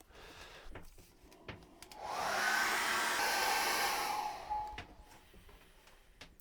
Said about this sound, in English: I'm going to get a hairdryer on that in a second.